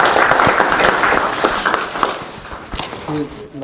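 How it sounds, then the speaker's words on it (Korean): Applause welcomes a National Assembly member at a briefing in a meeting room of the National Assembly Members' Office Building. A busy, broad patter of clapping is mixed with close talk and thins out toward the end. "큰 박수"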